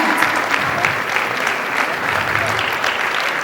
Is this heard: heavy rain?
no